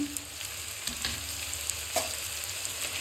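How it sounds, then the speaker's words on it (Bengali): Whole spices crackle and sizzle in hot oil for tempering, a steady close frying hiss broken by a few sharp pops and stirring clicks. "আমি এখানে এই ফোড়ন যা আছে গোটা মশলা সেটা দিয়ে দেবো"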